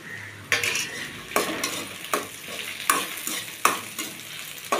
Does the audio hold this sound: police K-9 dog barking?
no